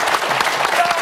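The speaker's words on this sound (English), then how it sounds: "A spontaneous round of applause." A television studio audience breaks into a spontaneous round of applause, a dense, even wash of clapping heard close and alone for about a second.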